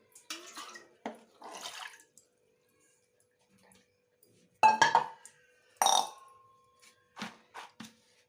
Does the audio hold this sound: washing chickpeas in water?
yes